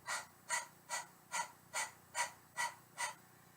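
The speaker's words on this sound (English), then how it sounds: "if you're not familiar with breath of fire, imagine that you are a panting dog." Breath of fire yoga breathing, eight quick, even, forceful breaths in a steady panting rhythm, close and fairly quiet, with no talking.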